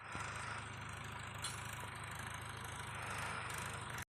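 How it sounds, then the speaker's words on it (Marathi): A Mahindra 575 tractor pulling a seed drill idles in a steady low, faint engine drone, with a light rattle, that cuts off abruptly at the end. "आता आपल्याला महिंद्रा 575 ट्रॅक्टर घेऊन पेरणी यंत्र घेऊन जायचं आहे शेतात"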